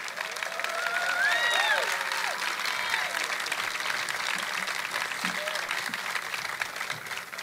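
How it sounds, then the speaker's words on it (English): An audience at a mayor's 2017 State of the City address applauds steadily for city employees, a broad wash of clapping under faint voices and some whistled tones near the start, easing slightly toward the end. "How about a round of applause for these amazing city employees?"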